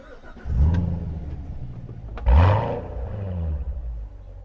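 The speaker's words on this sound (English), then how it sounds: "So let's fire it up and see what it sounds like." A Chevrolet Corvette Z51 with a manual gearbox, a pre-production car, cranks and fires with a loud roar at half a second, settles, then blips again into a deep, throaty, rumbling idle close by.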